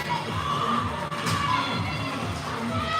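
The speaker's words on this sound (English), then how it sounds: "Lions crowd getting rowdy over to my right" The Lions crowd at a girls' 16U ice hockey championship between Team Illinois and Lovell Academy makes a steady, echoing din of shouts and cheers inside the rink, with a brief bang partway through.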